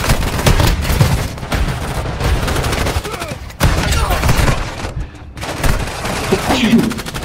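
Gunfire rattles in the Warzone mobile video game, with dense, overlapping volleys of shots, many sounding distant, continuing almost without a break at a steady, fairly loud level.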